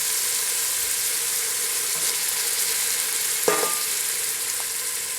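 Artichokes fry in olive oil in a pan with a steady, loud sizzle. A utensil scrapes and stirs through them a couple of times, close up and with no voices.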